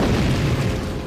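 A magic explosion erupts at a rune in the video game Death Gate, a loud sustained rumbling boom filling the whole moment without a pause.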